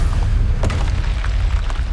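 The Bombarda spell detonates in Hogwarts Legacy with a deep, rumbling boom that fills the whole moment, heavy and loud with a sustained low roar.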